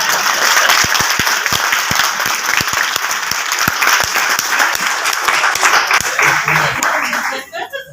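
Large audience at a marketing meeting breaks into sustained applause, many hands clapping in a dense, loud roar with sharper individual claps standing out, fading away at the very end.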